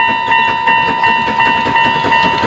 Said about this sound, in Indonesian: Ternyata yang ini mainan kereta api